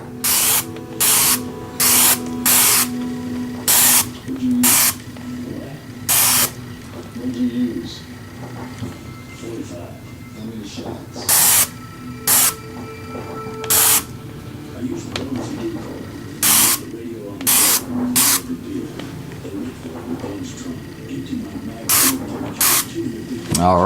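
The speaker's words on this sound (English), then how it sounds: "Adjusted the nozzle for a little bit more spray." Airbrush spraying paint onto a simple skull design, heard as repeated short bursts of hissing spray separated by pauses, close and fairly loud over a steady low hum.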